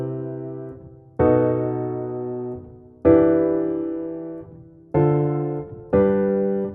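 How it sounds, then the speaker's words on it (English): Sustained seventh chords from a synth keyboard instrument in an R&B progression built in FL Studio, each chord struck and left to ring and fade before the next, five changes in steady succession with no voices. "all that's going to be is a 7th chord now"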